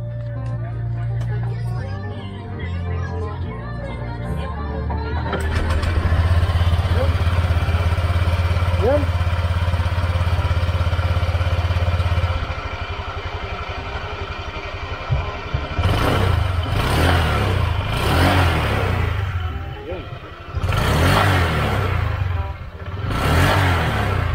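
A motorcycle engine starts and idles, then revs in repeated bursts after a CVT cleaning, loud and close, with people talking over it.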